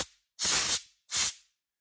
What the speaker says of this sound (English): I'm going to douse it with brake cleaner